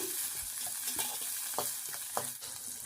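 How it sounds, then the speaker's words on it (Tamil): Curry leaves sautéing in hot oil in a pan for a fish curry give a steady close sizzle, with a few soft scraping stirs and clinks from a spoon scattered through it. "சேர்த்துட்டு இப்போ அதையும் வதக்கி விட்டுக்கலாம்."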